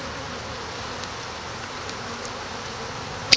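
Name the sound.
honeybees buzzing in the hive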